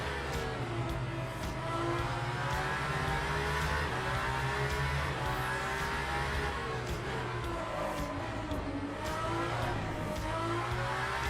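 Race car engine in Le Mans Ultimate, a sustained droning engine note with shifting pitch as it revs, steady and fairly loud throughout with no talking.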